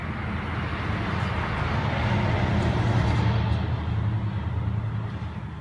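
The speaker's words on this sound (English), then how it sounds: "big diesel engine truck coming by." A big diesel engine truck drives past outdoors near a garden, a broad rumbling roar that swells toward the middle and fades away, heard alone without talk.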